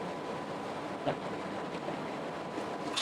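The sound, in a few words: rotary roughing vacuum pump running in thermal evaporation system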